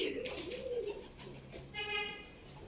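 Soft, low coos of several pigeons repeating close by, with a brief chirp and faint background noise.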